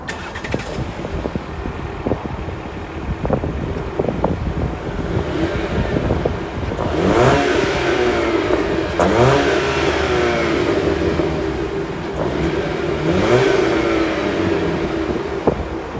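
The 2.4-liter four-cylinder engine of a 2020 Jeep Compass Limited SUV starts and revs several times, its exhaust note rising and falling in rasping surges over wind buffeting.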